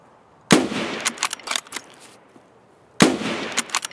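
Enemy gunfire in a first-person shooter video game: two sharp, loud volleys of cracking shots, each a rapid cluster of reports with scattered follow-up pops, separated by near silence.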